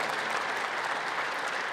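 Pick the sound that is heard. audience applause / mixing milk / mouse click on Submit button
audience applause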